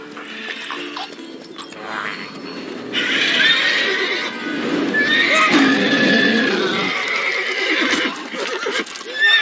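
Geralt's horse Roach in The Witcher 3 whinnies loudly over clip-clopping hooves, with long neighing calls swelling through the middle amid some clattering movement.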